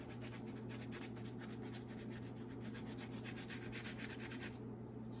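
Bath bomb mix being scraped smooth across a filled mold, a steady, close, gritty rubbing with repeated strokes and no voices.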